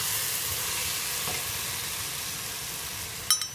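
Tomatoes frying in a pan for a coconut-milk chickpea dish give off a steady, even sizzle that holds at moderate level throughout, with one brief clink near the end.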